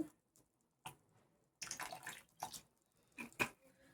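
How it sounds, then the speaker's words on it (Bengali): Rose water and kewra water splash in small amounts into a pot of egg biryani, giving a few short, close liquid pours and drips separated by quiet gaps. "এখানে আমি দেব সামান্য গোলাপ জল, আর কেওড়া জল"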